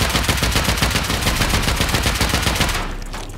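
Rapid automatic gunfire in a video game, a loud, close stream of evenly spaced shots hammering for about three seconds before cutting off into a fading echo.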